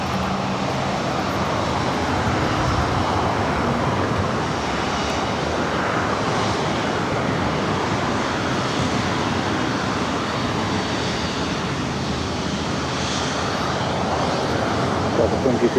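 A jet aircraft at LAX airport roars steadily and loudly, a broad sustained engine rumble filling the whole stretch with no pause.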